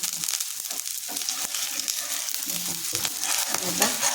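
Pumpkin thalipeeth flatbread fries in oil on a pan over low heat, giving a steady close crackling sizzle with small bubbling pops throughout.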